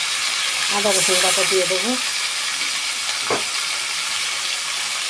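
Oil heats in a kadai for frying, with a constant loud sizzling hiss that fills the background while someone talks over it.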